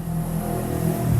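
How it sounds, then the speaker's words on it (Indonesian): A milling machine starts up during a milling practical, its motor hum steady and close, then building in strength over about a second, with no talk. "hidupkan mesin lagi dan carilah titik nol lagi"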